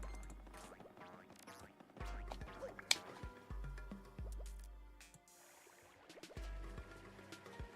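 Footsteps wading through water in Paper Mario: The Thousand-Year Door, a repeated rhythm of soft splashy squelches and drips with low thumps, quiet and steady.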